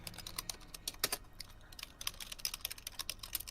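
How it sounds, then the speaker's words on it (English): Clicky computer keyboard typed on in a quiet room during a game stream, a steady patter of sharp keystrokes with short pauses, close and alone with no voices. "Does anyone hear my clickety keyboard?"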